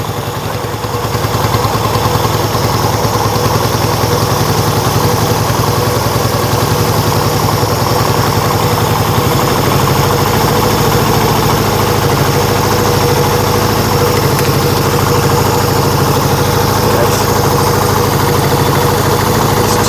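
A Yamaha XS1B motorcycle engine idling steadily while running during tuning, a loud, even, continuous rumble with mechanical vibration throughout, no talking.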